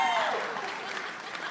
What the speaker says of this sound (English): clap for Ragtime